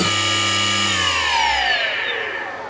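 Motor driven by a moteus controller spinning near 6,000 RPM, a loud steady electric whine with stacked tonal harmonics that falls in pitch as it spins down over a few seconds, no talk.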